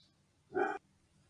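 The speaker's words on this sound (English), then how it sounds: "Please excuse my dog barking in the background." A single short dog bark, fairly distant and muffled, in an otherwise quiet room.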